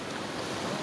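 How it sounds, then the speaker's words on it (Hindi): Sea waves wash continuously with a broad hiss mixed with wind rumble, near and steady, beside a fishing boat on the Indian coast. "ये जो लहर देख रहे हैं ये समुद्र का है ना"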